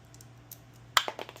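Two 1/4-20 bolts with washers dropped into place on an LP6 DOT headlight housing, giving a sharp metallic clack followed by a few smaller rattling ticks, close and clear against a quiet room with a low hum.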